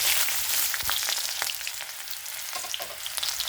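Whole cumin seeds and chopped onion fry in hot oil left over from frying potatoes, making a loud, steady close sizzle with sharp crackles and spits scattered throughout, and no voices.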